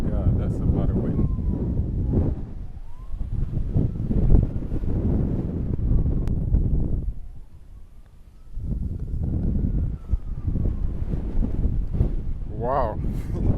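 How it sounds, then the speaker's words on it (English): Strong wind buffets the microphone on a golf course at Royal Westmorland, a loud, gusty roar that dips briefly before rising again, with a faint tonal whistle running through it. "that's a lot of wind"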